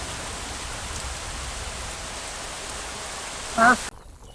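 Steady rain falling outdoors during village cooking after days of downpour, a constant even hiss throughout, ending with a brief louder bump before it cuts off.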